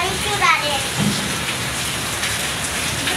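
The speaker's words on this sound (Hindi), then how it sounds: "ए फोन पे ही पानी आ जा रहा है बरसात का।" Steady heavy rain falls at night, a dense continuous patter on surfaces close by, while people and children talk over it.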